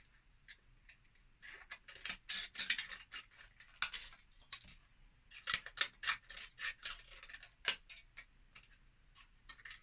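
Scissors snip through thin aluminium Pepsi and Coke cans, cutting them into rough leaf shapes: a quick, irregular run of sharp metallic clicks and crunches, close and fairly quiet, with no talking.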